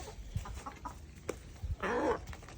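Free-range chickens clucking on a farm: a few soft, scattered clucks and short calls, with a louder burst near the end, fairly close and quiet, no voices.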